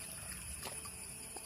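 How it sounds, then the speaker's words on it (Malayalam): A small scenic village stream in Kerala trickles and babbles softly, a faint steady wash of flowing water with no voices over it. "ഇതാണ് ഗൈസ് ഞങ്ങളുടെ പ്രകൃതി രമണീയമായ തോട്."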